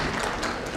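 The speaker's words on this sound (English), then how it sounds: "can we have a big round of applause and welcome Ms. Nevatia on stage." A conference audience applauds to welcome a speaker onto the stage at a healthcare panel event, a dense, loud burst of clapping filling the whole brief moment.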